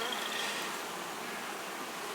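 Honey bees hum steadily around an opened beehive during honey harvest. The buzzing of many insects is dense and continuous, close and fairly soft, with no voices.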